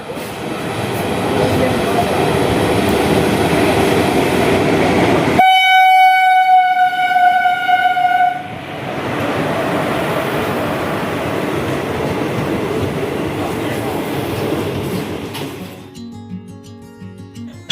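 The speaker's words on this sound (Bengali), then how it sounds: "আমাদের ট্রেন ছেড়ে দিল খাগড়াঘাট রোড রেলওয়ে স্টেশন থেকে আজিমগঞ্জের উদ্দেশ্যে" A train pulls out of Khagraghat Road railway station bound for Azimganj, its loud steady rolling rumble broken by a long horn blast, then continuing on the rails before fading toward the end.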